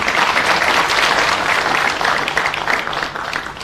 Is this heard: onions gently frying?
no